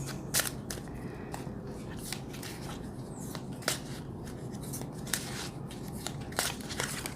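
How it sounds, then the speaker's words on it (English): A deck of cards being shuffled by hand during a tarot reading, with soft repeated riffling and snapping crackles over a steady low background hiss, close and fairly quiet. "As I go ahead and shuffle the cards"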